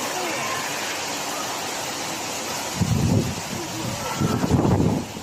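Heavy rain and strong gusting wind lash Shenzhen during a strong thunderstorm, a dense, steady roar of downpour with louder low rumbling gusts swelling near the end.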